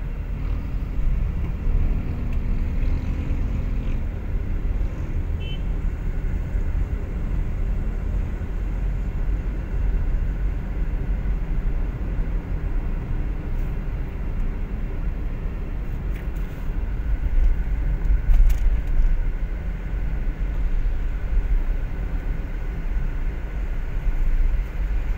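Cars bunching up in city traffic after a stoplight along Commonwealth, heard as a steady low rumble of engines and road noise from inside a moving vehicle, swelling slightly later on.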